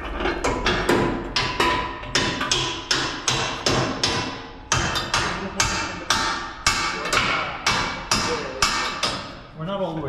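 Repeated hammer strikes on a steel snow plow frame during welding work, roughly twenty sharp, ringing metallic blows in a steady, fairly even rhythm, close and loud, with faint voices in the background.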